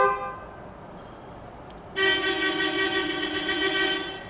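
Car horns honking in a traffic jam in Turkey: one horn fades out, then a louder, closer horn blares in a long sustained blast for over two seconds against a low traffic rumble.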